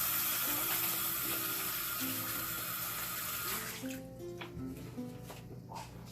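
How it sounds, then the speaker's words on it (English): Warm water runs from a tap as hands are washed, a loud, steady rushing stream that cuts off partway through, leaving quieter splashes and drips. "You should always wash your hands with warm water and antibacterial soap, because it kills the most germs."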